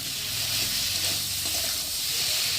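Spices frying in a generous amount of mustard oil for a parshe fish curry give off a steady, loud hiss and sizzle close by, with no talking heard.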